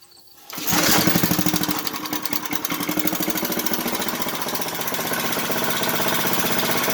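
A rototiller engine, left neglected for two years with stale gas, starts after a brief quiet moment and keeps running steadily. It chugs loudly and evenly close by, with no talking.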